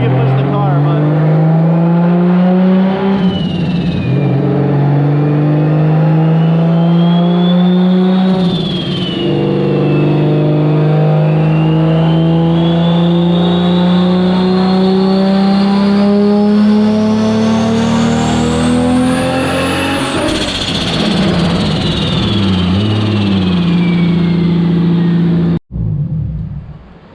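A car with a 2JZ engine revs hard while strapped to a dyno. The loud, sustained engine note climbs and falls across several long pulls and cuts off abruptly near the end.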